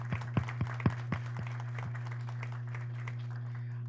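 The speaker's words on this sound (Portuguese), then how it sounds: "Uma salva de palmas para elas." Brief, faint applause for teachers at a university human rights and inclusion event: a few scattered claps at the start that quickly thin out over a steady low hum.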